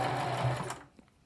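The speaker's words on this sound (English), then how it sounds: "And then I'll just sew to the end" A sewing machine stitches fabric face masks with a fast, close whirring run that stops abruptly partway through, leaving near silence.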